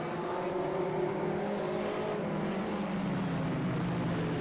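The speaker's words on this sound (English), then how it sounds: "Here come the mini stocks up to speed." Mini stock race cars come up to speed on an oval track during a memorial race, their engines a steady, loud drone that pushes on under faint crowd noise.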